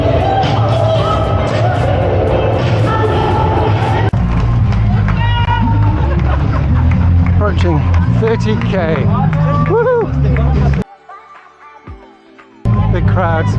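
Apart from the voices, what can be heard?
crowds cheering along the Paris Marathon course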